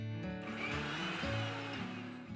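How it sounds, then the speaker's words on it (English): Mixer grinder coarsely grinding boiled black chickpeas in a grinding jar: a loud continuous motor whine with pitch shifts as the blades churn, close and steady. "Once cool, I'm transferring it to the grinding jar. And we will grind it into a coarse mixture."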